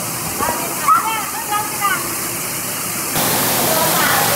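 A waterfall heard from inside the falls roars as a steady wash of noise, with a voice talking briefly over it early on. The rush grows louder and brighter in the last second.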